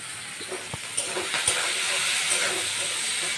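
Sliced onions sizzle in hot oil with dried red chilies and small mustard seeds for a dosa filling, giving a steady hiss with scattered crackles and pops, fairly close and continuous.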